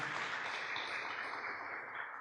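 Congregation at a church service applauds the band, a dense, steady wash of clapping from many hands that holds evenly for a couple of seconds and fades slightly at the end.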